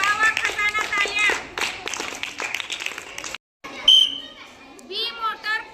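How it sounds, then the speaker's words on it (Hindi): Children clap together in a classroom during a reading activity, a lively burst of applause mixed with young voices and chatter, pausing briefly before more claps and excited child speech. "तालियां।"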